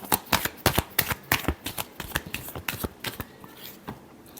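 A deck of tarot cards is shuffled by hand, producing a rapid run of crisp riffling flicks and snaps close up that slowly thin out toward the end, with no talk.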